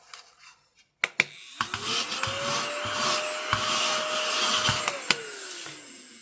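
A household hoover vacuum cleaner starts after a few sharp knocks and runs steadily with a rising whine for several seconds, then winds down near the end, close and fairly loud, with no talking.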